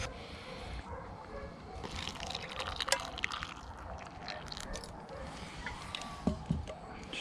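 Hot liquid pours from the pot of a Fire-Maple FMS-X1 camping stove, a soft splashing trickle and gurgle with occasional drips and clinks, quiet and close outdoors.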